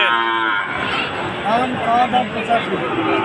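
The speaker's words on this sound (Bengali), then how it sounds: "গরু তো হেভি ফিগারের গরু" Sahiwal cattle low at a busy cattle market, one long moo rising clearly over a background of people talking and bargaining.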